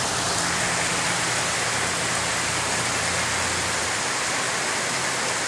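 Steady, heavy rain pouring down close by during a storm in East Texas, a dense continuous hiss with a low rumble underneath.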